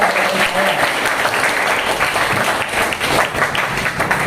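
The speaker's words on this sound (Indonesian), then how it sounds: "Kasih applause untuk tepuk untuk" A school audience of students claps steadily through a class event on low-carbon living, dense sustained applause at even loudness throughout, without speech over it.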